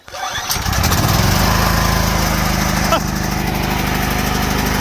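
Gasoline portable generator engine catching on the first pull of the recoil starter, then settling into a steady, loud, close running drone that continues throughout.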